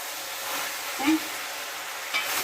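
Chili chicken is stirred in a frying pan, a soft close sizzle with two short scraping strokes of the spoon.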